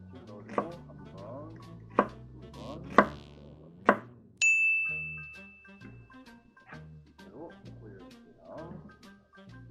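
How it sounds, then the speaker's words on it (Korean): A knife scores squid on a cutting board, four sharp, evenly spaced taps up close, with a person talking throughout. "칼집을 넣어줍니다."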